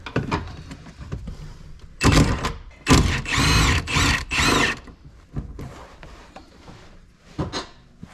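An impact wrench rattles off bolts on a 6.0 diesel truck in several loud, close bursts of about a second each, separated by quieter pauses and clanks.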